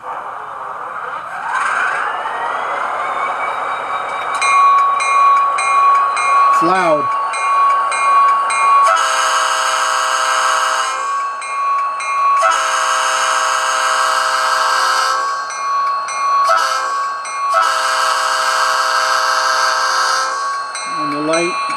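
An ESU DCC sound decoder in a model train locomotive plays loud engine drone, repeated horn blasts and bell-like beeps, with a short speech remark heard over the sound.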